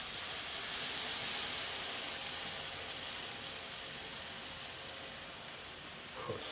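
A tin of blended plum tomatoes hits a hot spice mix and sizzles loudly, a dense, continuous steam-like hiss that eases off slightly over the seconds.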